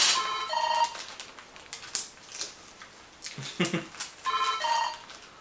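A cameraman's phone rings in two short patterned bursts near the start and again near the end, faint under crinkling bubble wrap and packing noise from someone wrapping beer for shipping.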